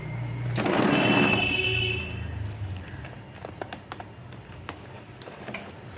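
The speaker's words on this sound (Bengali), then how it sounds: "এখান থেকে আমি ব্যাগের হ্যান্ডেলটা শুরু করছি আর এইভাবে করে আমি পুরোটাই সেলাই করে নেবো" A sewing machine stitching a bag handle, a steady mechanical whir that is loudest at the start and then drops off, followed by scattered light taps and clicks.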